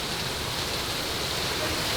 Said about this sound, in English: Look, it's rain.